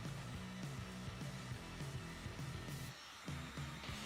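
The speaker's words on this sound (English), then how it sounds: "I like to use my heat gun" A heat gun smoothing the surface of monster clay gives a steady, close blowing whir with a slightly pulsing drone and a short dip in level near the end.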